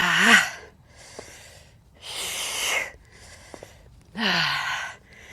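Heavy breathing during a lateral lunge workout: three long, loud exhales and gasps alternating with quieter inhales in a steady rhythm, close to the microphone.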